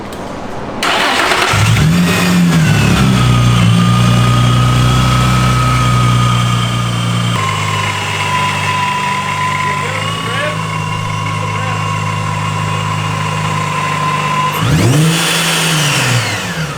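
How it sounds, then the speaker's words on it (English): A Procharger-supercharged Infiniti G35 engine cranks and fires up, then settles into a loud, steady idle with a whining tone. It is punctuated by sharp revs near the start and again near the end. "Time to rip the G and listen to some Procharger noises."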